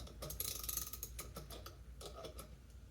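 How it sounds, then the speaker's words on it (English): A 13mm socket on a ratchet clicks rapidly while a bolt is tightened on a BMW R60/2 motorcycle engine, a quiet continuous run of close metallic ticks with no speech. "And I'm using a 13mm socket"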